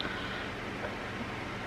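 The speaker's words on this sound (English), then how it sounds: "please excuse the background noise, the fan is on" Constant soft whooshing hum of an electric fan running nearby, even and unbroken throughout.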